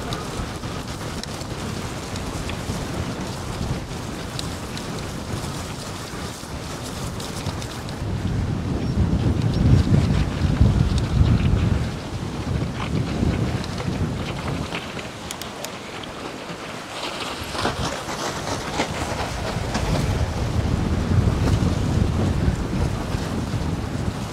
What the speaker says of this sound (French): Regardez un peu la taille des vagues. On est sur un lac, hein.